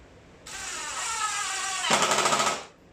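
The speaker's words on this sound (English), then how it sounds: "So I pre-drilled just a little ways down." A power drill bores pilot holes into a wooden door frame, with a single sustained whine of about two seconds that roughens into a rattling buzz near the end before it stops.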